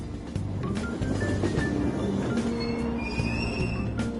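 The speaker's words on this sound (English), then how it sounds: "Train doors are now closing." Train sounds on a Tokyo subway line in Persona 5 Royal, a steady rumble with squealing wheels and rail clatter alongside a tonal chime, continuous and moderately loud without talk.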